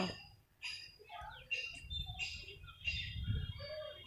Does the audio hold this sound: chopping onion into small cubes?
no